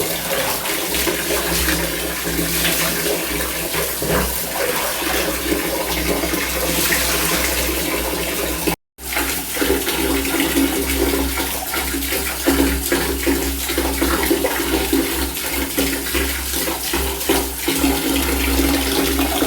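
Water running steadily while a dog is bathed, a loud continuous close-up gush and splash that carries on throughout with only a brief break partway through, no talk.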